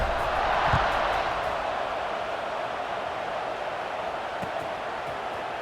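A steady, broad roar from a stadium crowd at a video game football match, cheering evenly throughout with no clear peaks or pauses.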